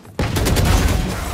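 Rapid gunfire from the Valorant video game bursts in suddenly and stays dense and loud, a continuous fusillade of shots with no talk over it.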